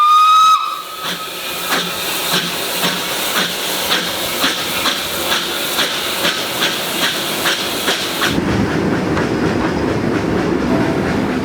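A train at Castletown station on the Isle of Man sounds a steam whistle, then rolls past with a regular clatter of wheels over rail joints, close and loud, ending in a broad roaring hiss.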